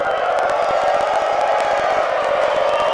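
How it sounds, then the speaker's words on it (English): A distant crowd cheers and whoops at a SpaceX Starship launch site, a broad steady roar with no pauses. "And a lot of cheering here in Hoffa"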